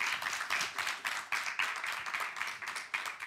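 An audience applauding warmly for Pierre-Marie Dru, a music supervisor, with dense, even clapping that carries on without a break for several seconds and no voices over it.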